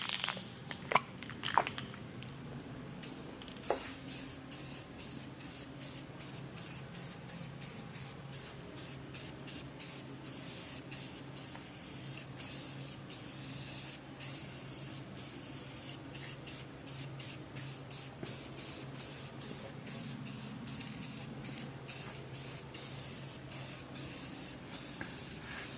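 Aerosol spray paint hisses in long, steady bursts onto a black chain link gate in a fabrication shop, with a few light knocks at the start and a continuous airy spray throughout.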